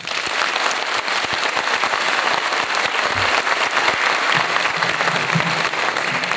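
Loud, dense audience applause fills a kindergarten hall during a 60th anniversary celebration, sustained clapping from many hands throughout.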